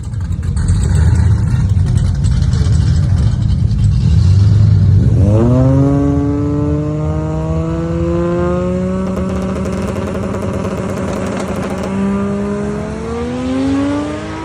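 A drag car engine revs hard, its pitch sweeping sharply upward and then climbing steadily as power builds, loud and close after an opening stretch of low rumbling idle.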